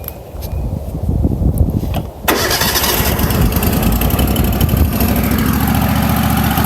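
A small engine on a sawmill for cutting lumber starts up with a sudden loud catch, then settles into a steady, close running drone that holds strong to the end.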